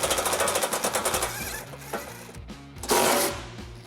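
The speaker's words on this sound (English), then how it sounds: "Using a 14mm socket, we'll remove a bolt, another bolt here, and lastly a nut on this side." A socket wrench, most likely a powered one, drives bolts off the bumper beam of a 2021 Subaru Forester during a trailer hitch install, with a rapid ratcheting chatter and short whirring bursts close by.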